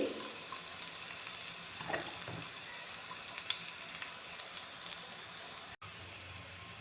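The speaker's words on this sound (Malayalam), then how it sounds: "വെളിച്ചെണ്ണ ചൂടായി വരുന്നുണ്ട് അപ്പോൾ ഇത്തിരി ഉള്ളി ചെറിയുള്ളി അരിഞ്ഞത് ഇടാം മൂപ്പിച്ചെടുക്കാം" Chopped small shallots fry in hot coconut oil for a Kerala-style mango curry, giving a steady, close sizzle that runs evenly throughout with no talking.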